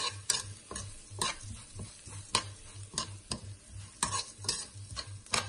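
Spices and black pepper being stirred into a cooking pot with veal and poultry stock, soft sizzling beneath regular metallic clinks and scrapes of a spoon against the pot, close up with no voices.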